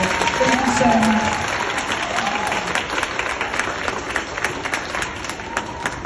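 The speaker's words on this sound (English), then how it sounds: "Let's give them all another big round of applause." A school assembly crowd of children and staff gives sustained applause, a steady wash of clapping with cheering voices and a brief sung or shouted tone early on, fading slightly toward the end.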